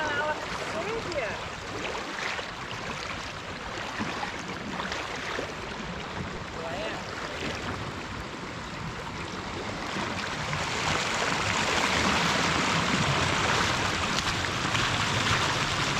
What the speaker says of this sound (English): God, that's a torrent of water